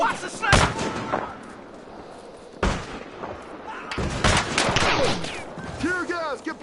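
Gunfire in the video game Battlefield Hardline comes as several loud, sharp shots spaced a few seconds apart, with a few scattered smaller sounds between them.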